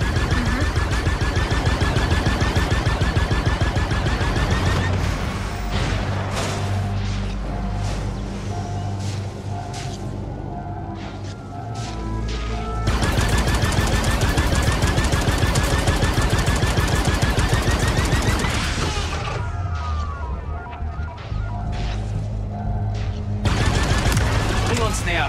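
Ship-mounted guns in the Star Wars Outlaws video game firing to blast cargo loose, with rapid loud bursts of shots in long volleys broken by short pauses.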